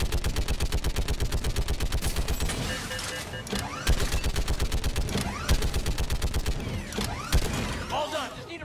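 Gun turrets in the video game Mass Effect 3 fire in a loud, rapid, continuous automatic burst, with heavy rhythmic shots and mechanical clanks running for several seconds.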